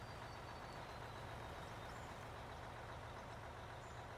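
A truck engine in a mining video game rumbles steadily throughout at low volume, a continuous droning hum with no talk over it.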